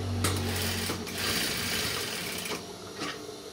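A sewing machine stitches a side pocket, running in a steady close mechanical whir with a few brief pauses and restarts between bursts of stitching.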